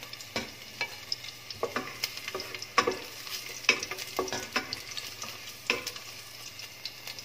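Sliced garlic and onion frying in olive oil for spaghetti aglio e olio, a soft sizzle broken by frequent clicks and scrapes of stirring, close and quiet with no talk.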